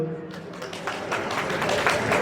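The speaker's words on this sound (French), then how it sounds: "Applaudissez, applaudissez" Audience applause at a seventh anniversary party, a steady crowd of clapping that swells and grows denser partway through, with some voices mixed in.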